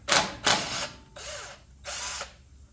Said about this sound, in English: 10 millimeter. Let's pop these bolts out.